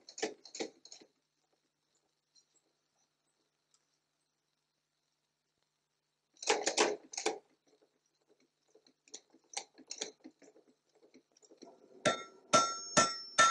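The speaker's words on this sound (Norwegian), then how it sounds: "smir den ut underlepen med maskinhammeren" A power hammer forges the lower lip of an old axe: several clustered metallic strikes, followed by a pause, another burst of heavy blows, and scattered lighter knocks ending in bright ringing hits.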